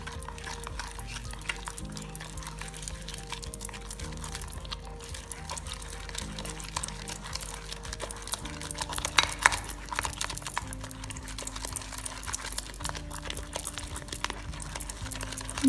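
Slime being stirred and mixed in a bowl, a continuous wet squelching and slapping texture that runs steadily throughout, with a faint tonal hum underneath and no speech.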